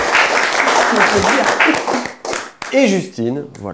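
A studio audience on a magazine TV show claps briskly under a presenter's speech for about two seconds, then the applause stops and the presenter keeps speaking alone.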